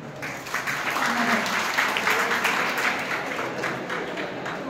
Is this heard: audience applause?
yes